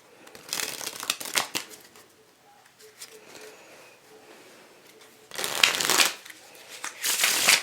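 A deck of playing cards is shuffled by hand, with several bursts of crisp riffling and flutter close to the microphone, broken by quieter handling pauses, while pigeons coo faintly in the background.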